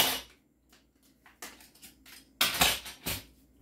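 Metal kitchen utensils tumble out of a drawer in several bursts, clattering and jangling against each other and a stovetop, close and fairly loud, with quiet pauses between the dumps.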